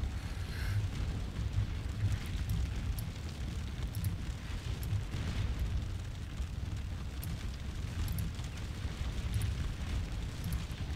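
In the Scourge of War: Waterloo battle game, dense, continuous musket and cannon fire rolls on as a dull, rumbling roar of distant volleys with faint scattered pops, steady and fairly quiet throughout.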